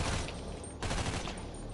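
Rapid SMG gunfire in a video game heist, a dense burst of automatic shots rattling close and loud and continuing for nearly two seconds, with a brief break in the middle.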